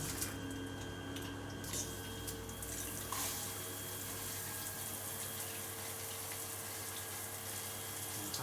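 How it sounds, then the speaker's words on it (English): Steady rush of water from a thermostatic shower mixer bar, running continuously at moderate level with no talking. "the left hand control controls the water on and off."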